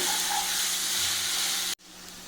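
Chicken stew with green chillies and black pepper sautéing in a pan, a steady close sizzle and frying hiss with faint stirring that stops abruptly near the end, leaving quieter background.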